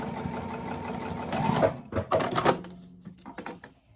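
Sewing machine stitching a fabric corner bookmark with a quarter- or eighth-inch seam allowance: a steady close whirring run for about a second and a half, then a few short stop-start bursts of stitching before the motor falls quiet.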